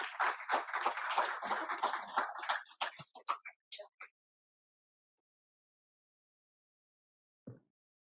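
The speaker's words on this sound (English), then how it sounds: "Let's give her a round of applause as she comes." Clapping at a defense industry conference on Army contracting, a dense burst of hands for about three seconds that thins into a few scattered claps and stops, with one stray knock near the end.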